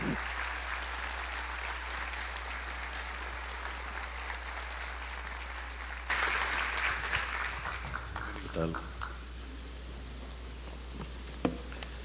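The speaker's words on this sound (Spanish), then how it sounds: "Recibámosles con un fuerte aplauso." Audience applause greeting a guest speaker, the Spanish writer and historian, at a lecture hall event; steady clapping fills the room throughout, growing slightly louder midway, with a faint background hum.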